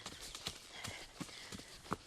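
An Arabian mare trots bridleless on a trail, her hooves clip-clopping in a quick, even rhythm, faint and close, over a soft rustling background.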